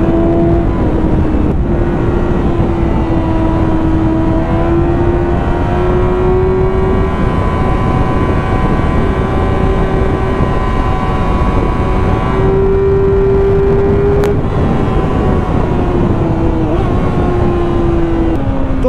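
A 2009 Yamaha YZF-R6 motorcycle engine runs hard at high RPM, a loud, continuous buzzing whine that holds a near-steady pitch with slight rises and dips throughout.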